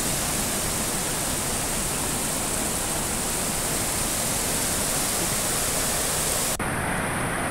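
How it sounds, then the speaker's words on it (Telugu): Floodwater rushing through a swollen stream after Cyclone Montha's heavy rains, a loud, dense, unbroken roar with no voices, cutting abruptly near the end. "మొంతా తుఫాను కారణంగా జిల్లాలోని వాగులు, నదులు ఉధృతంగా ప్రవహిస్తున్నాయి."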